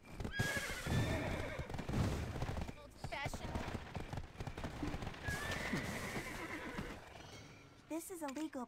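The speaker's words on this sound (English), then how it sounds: "There's my horse." Hoofbeats clip-clop and a horse whinnies in the video game Black Desert Online, fairly quiet and intermittent, mixed with other game sounds and a person talking over them.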